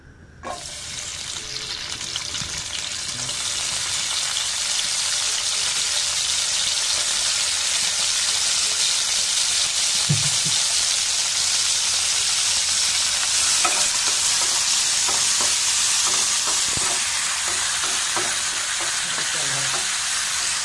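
Ingredients for a peanut bharta, with coriander leaves among them, fry in soybean oil with a steady, loud sizzle, while faint stirring clinks and a few small knocks come through now and then.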